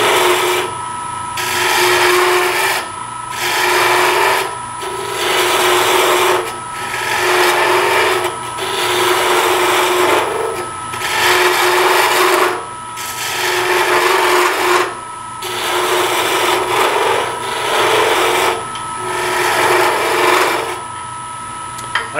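A gouge cuts a series of coves into a wooden furniture spindle on a lathe, a steady rasping scrape that repeats in roughly ten regular passes, each broken by brief pauses, close and fairly loud with a constant motor whine underneath.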